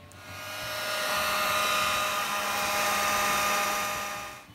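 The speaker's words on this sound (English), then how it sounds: "I was starting to melt the silicone with the hot air" A hot air rework tool blows onto a circuit board to melt silicone near a pressure sensor, a steady close whooshing hiss with a faint whine that swells in and tapers off at the end, without speech.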